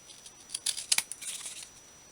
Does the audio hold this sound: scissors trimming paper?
yes